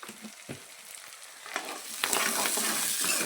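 Onion frying in oil with cumin, mustard seeds, curry leaves and peanuts gives a steady sizzle with scraping stirs, growing louder and brighter partway through, with no talk.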